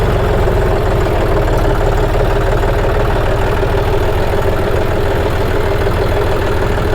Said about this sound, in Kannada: ಇದರಲ್ಲಿರೋದು 3 ಸಿಲಿಂಡರ್ ಡೀಸೆಲ್ ಇಂಜಿನ್.